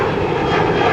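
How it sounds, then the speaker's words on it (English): A fixed-wing airplane passes overhead in Los Angeles near Playa del Rey, a loud, steady, broad engine roar filling the whole moment with no other sound. "But there's an airplane."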